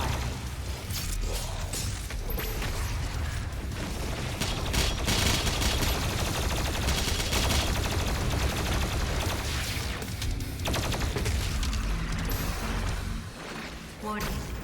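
The BFG 10,000 fires in DOOM Eternal amid a loud, continuous barrage of heavy blasts and rapid impacts, with a voice talking over the chaotic din.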